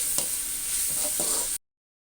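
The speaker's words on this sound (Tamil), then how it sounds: "2 தக்காளி கட் பண்ணி வச்சுக்கிறேன், அதையும் இதில் சேர்த்துடலாம். சேர்த்து நல்லா கிளறி விட்டுருங்க." Tomatoes and onions fry in a pan, a brief, close sizzle with a couple of spoon scrapes from stirring, then an abrupt cut to silence.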